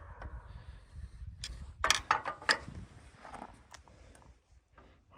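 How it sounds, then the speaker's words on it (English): The manual steering box on a 1977 Kubota B7100 compact tractor is turned by hand, producing a series of close mechanical clunks, ratcheting clicks and gear knocks that cluster midway and trail off into quiet. "Yeah, this is a manual steering box. No power steering here."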